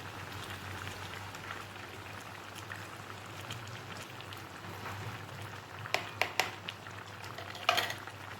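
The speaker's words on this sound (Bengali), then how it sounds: "মাংসটা সেদ্ধ হচ্ছে, এই ফাঁকে আমি একটু আদা বাটা দিয়ে দিলাম।" Meat simmers in a pot with a soft, steady bubbling and sizzle as ginger paste is added, followed near the end by a few brief, sharp clinks of a utensil against the pot.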